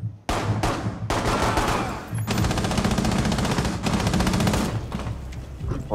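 Sustained automatic gunfire in a Rainbow Six Siege team deathmatch on the Coastline map, loud bursts running back to back with brief gaps, close and dense throughout.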